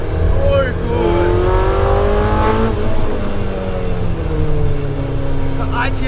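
A Honda CRX with a swapped-in K24 K-series engine revs hard and climbs through the gears, pitch rising and dropping with each shift, loud and close under a speaking voice.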